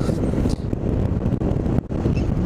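Loud wind buffets the microphone in heavy, continuous rumbling gusts, with brief dips where the blast eases for a moment.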